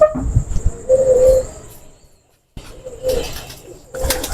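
Golden pigeons cooing nearby in a loft, a couple of soft low coo phrases separated by a short silence, with faint chirps and background rustle.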